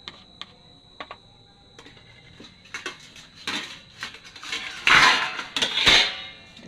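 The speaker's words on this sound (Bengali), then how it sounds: "আমি ঢাকনা দিয়ে রেখে দিলাম" A lid clatters onto a metal cooking pan, preceded by scattered light clinks and taps that build into a louder burst of rattling metal contact near the end, close by with no voices.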